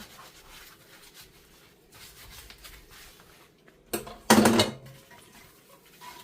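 Faint scrubbing and rubbing on kitchen utensils, including a ladle and a lid, cleaned with powdered sugar instead of dish soap, then a short, loud burst of clattering and splashing before it quiets again.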